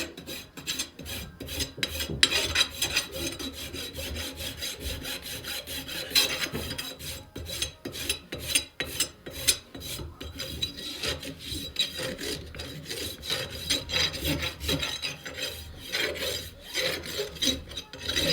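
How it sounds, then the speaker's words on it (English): A farrier's rasp files a horse's shoe and hoof in rapid back-and-forth strokes, a close, gritty scraping rhythm that pauses briefly between passes, with no talking. "Rest the rasp on the shoe itself."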